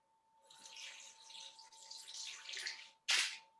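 Date soaking water poured into a blender, a steady splashing trickle that swells and ends in a brief sharp splash, with a faint steady hum underneath.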